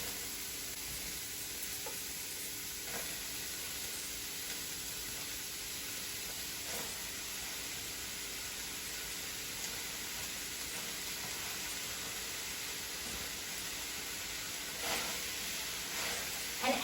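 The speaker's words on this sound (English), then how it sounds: "I'm gonna start adding my mushrooms and onions." Mushrooms and onions sizzling in a hot pan for soup, a steady, even frying hiss that runs throughout with faint stirring clicks now and then, close and unbroken.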